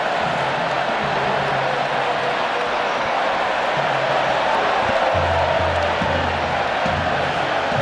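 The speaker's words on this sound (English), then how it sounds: "The cheering you can hear, real festive atmosphere for this game." Stadium crowd at Camp Nou during a Barcelona versus Arsenal Joan Gamper Trophy match in 2019, a steady broad roar of cheering and chatter filling the whole stretch, with low drumming or chanting pulses rising and falling underneath.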